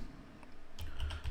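Fingers type briefly on a computer keyboard, a quick cluster of soft, close key clicks over a faint room hum.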